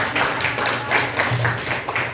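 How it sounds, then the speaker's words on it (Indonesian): A crowd claps in a steady burst of applause, fairly loud and sustained throughout, with faint voices mixed in. "Beri tepuk tangan untuk kelompok."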